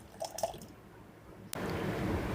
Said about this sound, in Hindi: और इसमें पानी डालेंगे थोड़ा सा।